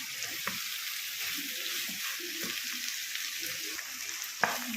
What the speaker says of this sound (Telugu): పేస్ట్ వేసేసుకుందాం పేస్ట్ వేసుకుని బాగా కలుపుతాం